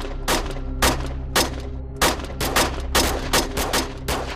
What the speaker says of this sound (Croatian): Tog dana, nešto poslije 18 sati, na Zvicera su pucala dva muškarca.